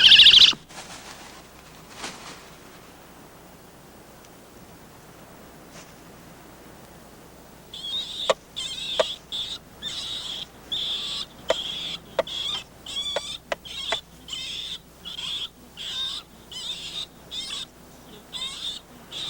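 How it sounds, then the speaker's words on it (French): An owl, a rodent predator, gives a run of short, rhythmic, chittering calls at moderate loudness, repeating steadily over quiet background after a long silent start. "Le hibou, lui aussi, est un des principaux prédateurs des rongeurs."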